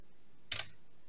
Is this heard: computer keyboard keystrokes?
yes